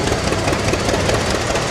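Minneapolis-Moline LP tractor engine idling steadily at an outdoor tractor show, a continuous loud broadband rumble with a faint knocking pulse and no talk.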